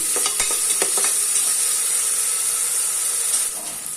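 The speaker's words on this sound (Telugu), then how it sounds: "ఒకసారి అంతా కూడా ఫ్రై చేస్తున్నాం" Onions fry with salt in a pan for a beans and tomato curry, giving a loud, continuous hiss with a few stirring scrapes near the start that eases off slightly toward the end, with no voices.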